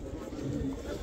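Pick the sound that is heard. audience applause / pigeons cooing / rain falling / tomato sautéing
pigeons cooing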